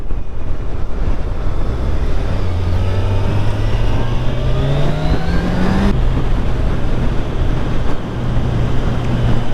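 Kawasaki Ninja 1000SX motorcycle riding at speed, engine note climbing steadily before a shift, heavily buried in loud, constant wind rush.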